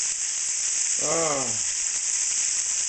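Panko-breaded chicken sizzles in a deep fryer, a constant dense bubbling hiss that holds steady throughout, with a short voiced sound rising briefly over it near the middle.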